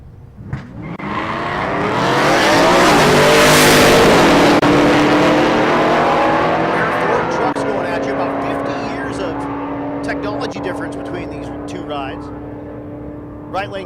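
Drag racing cars, among them a 1971 Ford F100, launch down an SRCA dragstrip during Rocky Mountain Race Week. The engines roar loudly and swell, then fade with a long whine. An announcer talks over the noise and crowd sounds.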